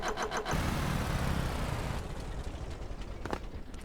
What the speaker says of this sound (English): We will start the engine.